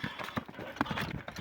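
A grey horse's hooves clip-clopping at close range in a short burst of uneven knocks, with faint background voices.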